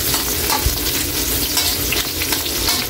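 Garlic and onion sauté in a pan for pork liver, a loud continuous sizzle broken by the scrape and clatter of a spatula stirring, with no voices.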